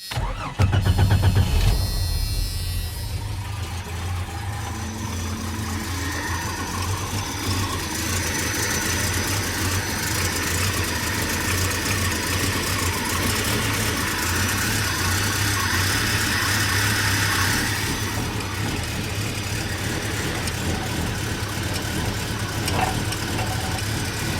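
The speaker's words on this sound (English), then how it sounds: "So now we just got to run the transmission and make sure there's no leaks." A 1989 Jeep Cherokee engine cranks and catches, then settles into a steady, loud idle that drones on for over twenty seconds, with no talking.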